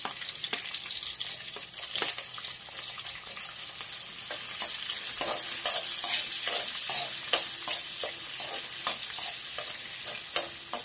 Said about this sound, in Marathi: फोडणी तडतडल्यावर त्याच्यामध्ये कांदा परतून घ्यायचा